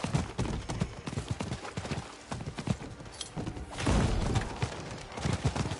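Rhythmic hoof clip-clop of a ridden horse in a video game, steady and fairly close, with occasional thuds and a brief whinny-like sound mixed in.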